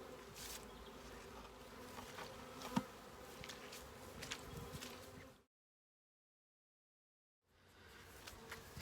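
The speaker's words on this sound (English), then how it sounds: "it looks like all the bees are finding their way into their new home well enough" Bees hum and buzz steadily around a new polystyrene hive, a dense close drone that cuts out to silence before resuming.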